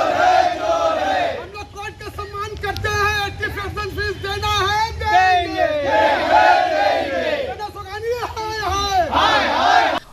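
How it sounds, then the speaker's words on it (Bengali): Parents protesting a private school's fee hike block Garden Reach Road in Metiabruz, their massed voices shouting and chanting slogans loudly and continuously, a dense, close crowd roar with individual cries rising above it. "অভিভাবকরা বিক্ষোভ দেখায়"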